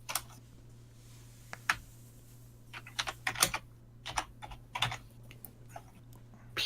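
Quick bursts of keystrokes on a computer keyboard while a search is entered in a modded Minecraft game, irregular clicks clustered in short runs over a steady low hum, close and moderately loud.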